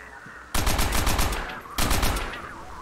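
Two long bursts of rapid automatic gunfire from a gun in Call of Duty: World at War, set in the American-Japanese Pacific war, loud and close, separated by a short pause.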